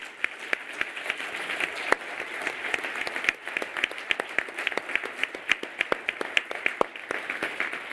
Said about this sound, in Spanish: merece un fuerte aplauso por parte de todos